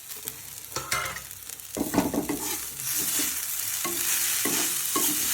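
Onion fries in a pan, a close, bright sizzle that grows steadier and louder while a utensil stirs and scrapes in irregular bursts.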